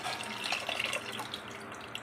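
Tamarind soaking water is poured into dal in a soft, steady trickle with light splashing, close and faint, with no voices.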